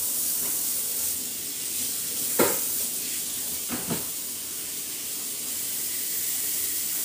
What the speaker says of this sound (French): Je vais venir allumer mon côté eau chaude et puis je veux bien laver mon poisson